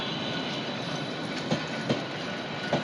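A train rumbles steadily past a station without stopping, a continuous broadband roar with a few soft rhythmic clacks from the wheels; no voices.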